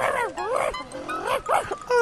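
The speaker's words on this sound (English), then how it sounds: "Oh, Timmy, it's your dog." A cartoon dog yips and barks in a run of short, whiny, pitch-bending calls, close and fairly loud, with brief pauses between bursts.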